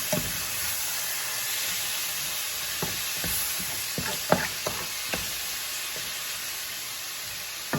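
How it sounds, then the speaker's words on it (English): Chilies sizzle and fry in a pot for white chicken chili, a steady soft hiss broken by a few scraping, clinking stirs of a utensil, close and fairly quiet. "give that a quick stir"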